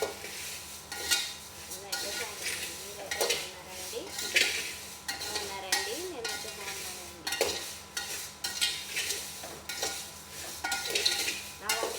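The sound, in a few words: frying and stirring in a pan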